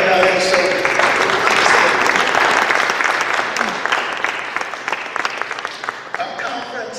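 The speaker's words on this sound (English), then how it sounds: "Let's give him an acknowledgement, a round of applause." An audience breaks into applause at an interview event, a dense burst of clapping that carries on and slowly thins out, with voices speaking over it.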